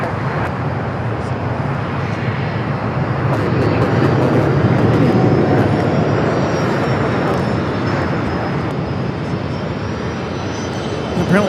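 A heavy Boeing 777 airliner at LAX airport produces a loud, sustained jet roar with a thin whine riding above it. The sound swells toward the middle and holds near and strong, with no talking over it.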